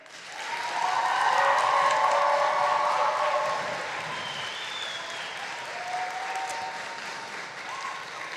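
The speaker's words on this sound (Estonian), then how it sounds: "Teeme palun kõik ühe suure aplausi mõlemale finaali võistkonnale." An audience in a hall at a national presidential debate tournament applauds both final teams, with clapping swelling in and holding strong for several seconds, then easing to a softer patter while a few voices murmur.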